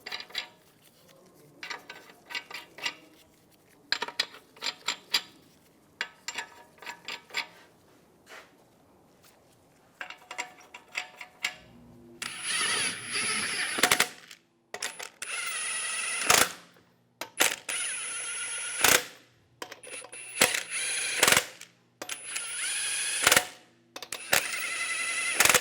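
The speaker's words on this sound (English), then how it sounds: "Now install the wheel. Put the lug nuts on." Lug nuts going onto a wheel of a 2007-2014 Cadillac Escalade ESV, heard as scattered light metallic clinks at first, then louder, sharper metal rattles and clanks in irregular bursts, close up.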